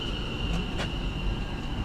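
A Greater Anglia passenger train service to Braintree in Essex gives off a steady low rumble with a thin, constant high whine on top, moderately loud, with no talking.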